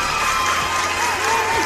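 Crowd applause and cheering used as a sound effect on a comedy podcast, a steady wash of clapping with whoops and shouts running throughout, loud and close.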